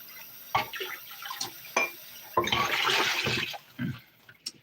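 A cooking pot being rinsed out with water in a home kitchen: short splashing bursts with a longer run of pouring or sloshing in the middle, close and moderately loud, with no talking.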